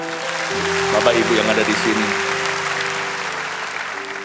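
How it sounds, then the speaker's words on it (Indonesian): Church congregation applauding at the dedication of a new rooftop church in West Surabaya, a steady broadband clatter of clapping lasting several seconds over sustained organ or keyboard chords, with someone speaking over it. "Kita berikan tepuk tangan"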